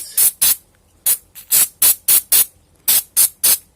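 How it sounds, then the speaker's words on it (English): Around a dozen short, sharp hisses from an aerosol can of carburetor cleaner sprayed onto a car fuel injector tip, fired in quick bursts close to the microphone with brief pauses between. "So spray the tip with some carb cleaner to clean it out."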